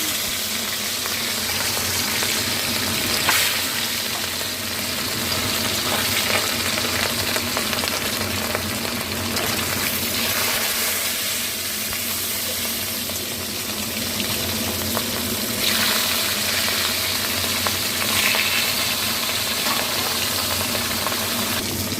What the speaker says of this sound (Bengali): আমি সাদা তেলে মাছটা নুন হলুদ দিয়ে মাখানো মাছটা ভেজে নিচ্ছি।